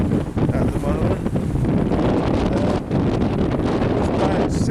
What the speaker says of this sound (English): It's about 16 knots of wind, gusting 20 probably.